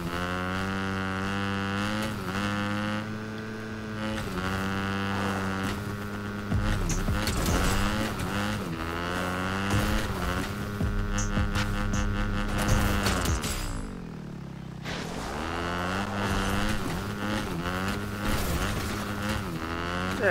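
A motorcycle ridden in a video game gives a continuous, fairly loud engine drone whose pitch repeatedly climbs and falls as it accelerates and eases off, with no talking.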